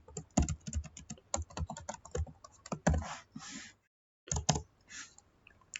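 Code is typed on a computer keyboard in quick, uneven bursts of sharp key clicks, with a brief silent pause before a few more keystrokes.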